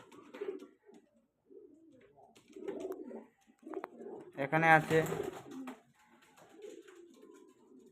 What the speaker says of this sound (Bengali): এখানে আছে সিরাজি আর নতুন পায়রা জোড় হয়ে গেছে